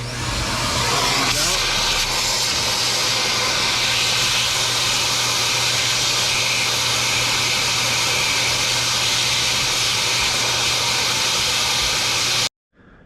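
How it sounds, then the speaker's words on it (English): A vacuum hums close and loud while a helicoil thread repair is done on a CLK55 AMG suspension. The broadband roar holds steady for nearly thirteen seconds, then cuts off. "I'm gonna go ahead and hit the vacuum"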